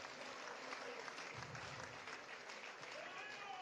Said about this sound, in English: He deserves another round of applause.